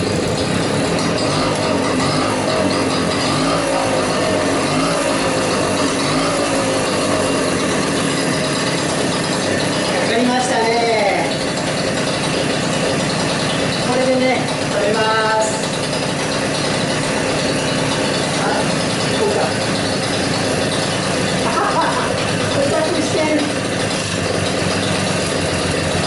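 A moped engine is pedal-started with the decompressor released: it sputters and catches amid mechanical ratcheting and clicking, then keeps running with a steady, rattling idle.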